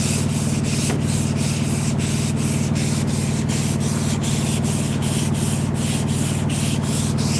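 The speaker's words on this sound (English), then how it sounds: "final block sanding on the old girl." Steady, continuous rasp of block sanding an old car's body with 100 grit sandpaper, close and loud with a regular back-and-forth stroke rhythm and no talking.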